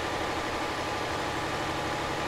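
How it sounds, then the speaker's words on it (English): Steady low engine drone from a Volvo truck engine braking downhill in Euro Truck Simulator 2, a continuous even rumble with no talk over it. "Nice bit of engine braking down the hill there."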